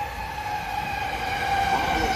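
A train stands at a Joban Line station in Japan, giving off a steady electric hum with sustained whining tones that hold level throughout, close and fairly loud.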